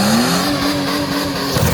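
A car engine roaring at sustained high revs during a burnout while running on Vegemite as engine oil, loud and close, a steady strained drone with a slowly rising tone, no talking.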